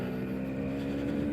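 A 40-year-old Suzuki GP100 100cc two-stroke motorcycle is ridden, its engine a steady, buzzy drone heard up close throughout the brief stretch, without any talk.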